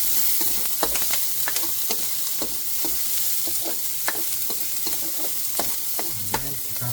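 Onions browning in oil for pork kinamatisan, a steady close sizzle with frequent light ticks and scraping stir strokes throughout, no talking.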